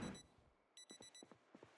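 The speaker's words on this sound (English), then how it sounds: "That's not my alarm." A digital watch alarm sounds in the zombie-survival game Project Zomboid: a faint, repeating electronic beep pattern in quick bursts that starts partway in, after a softer noisy stretch.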